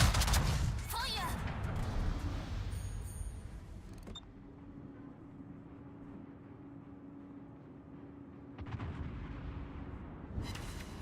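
Warship guns firing in the World of Warships video game: a loud opening blast with rumbling echoes, a quieter engine drone in between, then more booming shots near the end.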